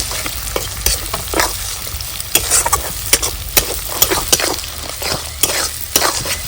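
Eggs frying with onions in a pan, a steady sizzle broken by repeated sharp scrapes and clacks of a spatula stirring through the mixture, close and fairly loud with no voices.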